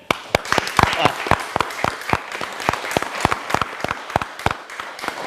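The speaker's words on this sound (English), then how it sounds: "all of us, a small applause for them" Symposium audience gives the panel a small round of applause, sparse distinct claps over a softer spread of clapping, fairly close and steady.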